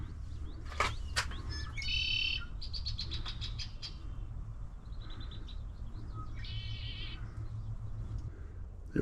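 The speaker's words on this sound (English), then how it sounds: "It says it's more common to hear the birds than to see them" Birds at Bear River Bird Refuge calling and chirping, several sharp tweets and rapid trilling bursts scattered across the clip over a low, quiet background rumble.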